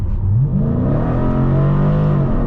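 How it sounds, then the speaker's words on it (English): A 2020 Dodge Challenger Scat Pack accelerates hard, its V8 engine rising in a loud, close growl that climbs in pitch, dips briefly at a shift, then pulls steadily again. "I'm gonna accelerate hard here"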